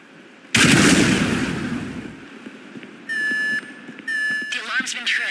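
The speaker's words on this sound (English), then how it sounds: "An explosion will tend to do that." A loud explosion erupts in GTA 5 during a bureau raid mission, its roar decaying over a second or two, followed by alarm beeps and game sounds as voices talk.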